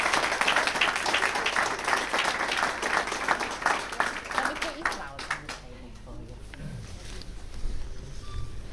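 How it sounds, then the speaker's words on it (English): Audience applause greets a couple's entrance at a wedding celebration, dense clapping filling the first five seconds before thinning into scattered claps, with voices and murmuring underneath. "Let's give them both a big round of applause."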